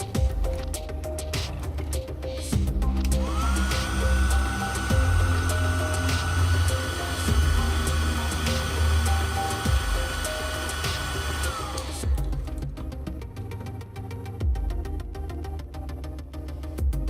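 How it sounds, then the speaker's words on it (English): A hairdryer heats the back surface of an iPhone X during disassembly, producing a continuous close-up blowing roar with a steady whining tone that lasts several seconds. "If you want to save adhesive tape, heat surface with a hairdryer."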